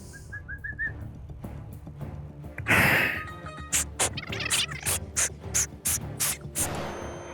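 A person attempts to whistle with a whistle, producing a few faint tones, a loud breathy blast, then a series of short, sharp puffed bursts, close up and alone.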